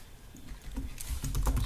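Soft, quick computer keyboard and mouse clicks while working in Photoshop, a faint patter of several taps that grows a little busier toward the end, with no talking.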